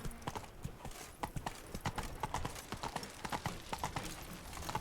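Steady clip-clop of Roach, an old horse in Witcher III, hooves trotting in a quick continuous rhythm under a noisy game background.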